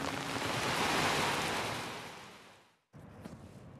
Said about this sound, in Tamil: சூறாவளி காற்றுடன் பலத்த மழை பெய்தது